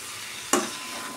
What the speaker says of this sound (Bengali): এটাও জাস্ট একটু নাড়াচাড়া করে ভেজে নেব